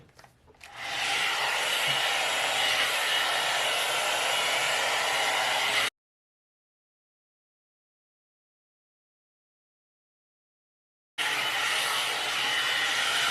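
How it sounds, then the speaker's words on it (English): A hair dryer blow-drying curly hair roars with a steady, loud, close airflow hiss, cuts out abruptly for several seconds, then starts up again just as strongly. "I had started blow drying my hair without using the stopwatch"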